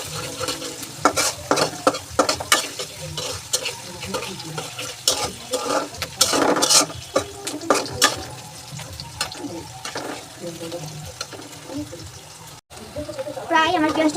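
Onions sizzle in a frying pan, with frequent stirring scrapes and clatters over a low crackle, while someone talks over the cooking.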